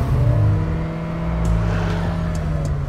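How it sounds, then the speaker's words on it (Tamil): A Hyundai Creta N Line's exhaust drones steadily close by for a few seconds, a low humming engine note with a slight rise in revs and no talk over it. "இந்த எக்ஸாஸ்டரோட சவுண்ட் எப்படி இருக்குன்னு நம்ம இப்போ செக் பண்ணிடலாம்."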